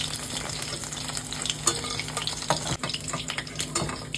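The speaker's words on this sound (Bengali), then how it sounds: "এই দেখো জাস্ট এরকম হালকা হালকা পনির গুলোকে ভাজতে হবে।" Paneer cubes fry lightly in oil in a kadai, giving a soft, steady sizzle broken by stirring scrapes and occasional light clinks of a utensil against the pan.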